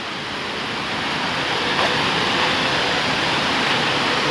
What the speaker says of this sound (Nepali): खोलामा यस्तो पानी पनि बगिरहेको